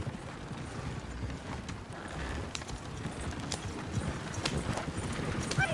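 Steady clip-clop of video game horse hooves over a noisy outdoor background, continuous and moderately loud throughout.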